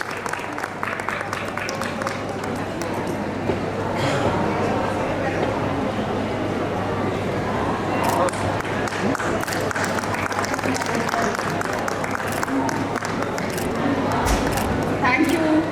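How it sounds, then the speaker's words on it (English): Applause breaks out at a book launch at a world book fair, a steady, fairly close clatter of many hands, with a voice talking over it. "Huge round of applause for Professor Sarangi."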